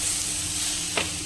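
Masala frying in a pan, a loud close sizzle with a steady hiss and a brief stirring scrape near the end.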